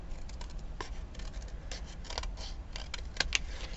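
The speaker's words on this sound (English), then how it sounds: "No, I'm going to use my scissors." Scissors snip through paper in a run of short, crisp cuts, close and fairly quiet, with two sharper snaps near the end and no voices.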